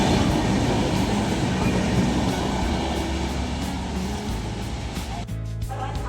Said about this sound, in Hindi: फाइनली हमारा ट्रेन आ चुके दोस्तों